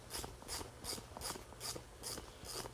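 A small hand ratchet with a 7 mm socket clicks steadily while removing the wheel of a Traxxas Rustler RC car, about seven even rhythmic bursts, close and moderately quiet.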